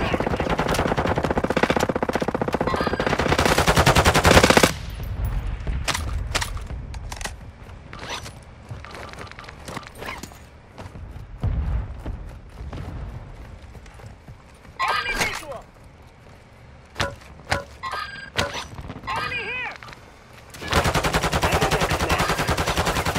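Bursts of automatic gunfire in Call of Duty: Modern Warfare II on a foggy map, rapid loud rattling volleys with quieter gaps between, mixed with game sounds and voices talking.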